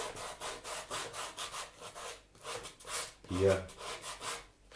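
Rough rhythmic rubbing of a piece of wood worked over leather to roughen its surface, steady close back-and-forth strokes with a brief spoken word partway through.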